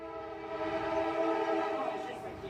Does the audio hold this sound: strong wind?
no